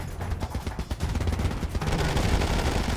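Rapid automatic gunfire in the video game Ghost Recon Advanced Warfighter 2 on PS3, a dense stuttering burst of shots that grows into continuous heavy firing, loud and close.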